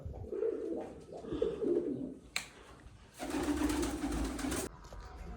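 Pigeons coo softly in short repeated phrases, followed by a louder burst of rustling noise before it quiets again.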